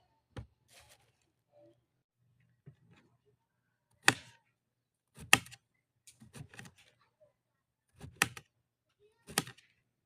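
A knife cuts a cucumber for a salad with sharp, isolated chops on a cutting board, spaced a second or so apart and quite close, in an otherwise quiet room.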